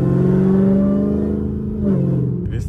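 A lowered Dodge Hellcat's engine revs up nearby, rising in pitch before dropping back as it eases off.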